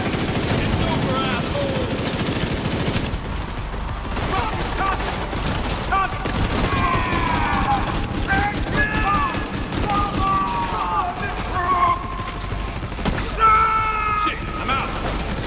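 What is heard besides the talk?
gunfire in the video game Tom Clancy's The Division 2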